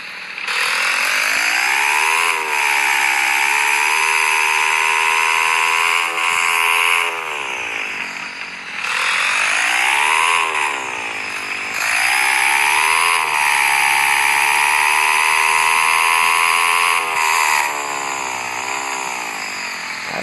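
A Honda Horizon 170 motorcycle engine revs loud and close inside a kitchen, its buzzing drone rising and falling through repeated throttle blips across the whole stretch, with brief dips between pulls and no talk.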